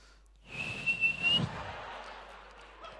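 A person whistles a short, bright sustained note lasting about a second, loud and close, with a little background murmur and room noise around it.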